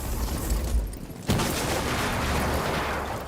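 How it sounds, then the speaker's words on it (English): Gunfire in a Rainbow Six Siege esports match, a dense continuous barrage of shots and booming impacts that briefly dips then surges back loud and sustained. "you can hear the shots there from Spiff going off"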